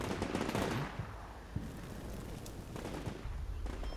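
Combat Mission: Shock Force 2 battlefield gunfire: sustained rattling bursts of machine-gun fire over a dense rumble, loudest at the start and then easing into steady distant firing, with some sharp single reports.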